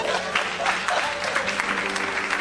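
A church congregation claps and cheers to acclaim the Lord during a Sunday service, in a short burst of uneven clapping with voices mixed in.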